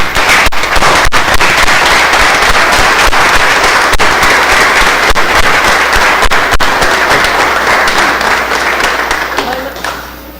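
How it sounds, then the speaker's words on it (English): Loud, sustained audience applause at a city council meeting honoring a retiring fire chief in Valdosta, dense clapping filling the room for about ten seconds before tapering slightly at the end. "we applaud you 5 times over"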